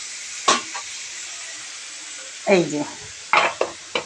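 Chicken stew with ginger paste sautéed and stirred in a pan: a steady sizzle runs throughout, broken by a few sharp spatula scrapes and stirs near the start and end, with brief talk over it.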